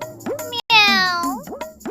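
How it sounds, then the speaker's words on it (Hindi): A cat meows in a rising, drawn-out wail with bright harmonics, sounding as a story sound effect amid a Hindi narration; two shorter meow-like calls frame it, close and fairly loud. "एक बिल्ली रामदास जी के पैर से टकरा गई"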